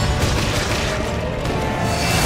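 A loud, booming shotgun blast in Resident Evil Revelations, with heavy low rumble filling the short stretch and no talking over it.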